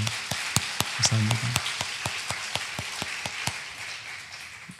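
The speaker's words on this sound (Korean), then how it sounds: "우리 한번 박수로 격려 한번 할까요" A church congregation at a youth service claps in encouragement, sounding as a steady run of sharp, evenly spaced claps that carries on alone for several seconds, with a brief voice in the middle.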